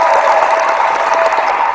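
A crowd claps for tennis player Richard Gasquet, a dense, even wash of applause that stays loud and steady for the whole short stretch.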